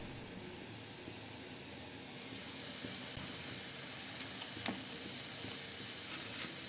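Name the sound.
broth boiling with fried fulluri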